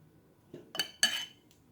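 A spoon clinks a few times against a bowl while chicken marinade with black pepper is mixed, quiet, short scraping taps close by.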